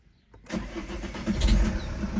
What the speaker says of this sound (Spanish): Bueno, pues vamos a arrancar el coche.